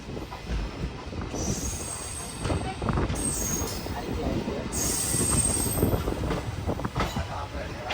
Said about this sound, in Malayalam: ഓക്കയിൽ നിന്ന് കറക്റ്റ് 3:15 തന്നെ ട്രെയിൻ എടുത്തിരിക്കുകയാണ്.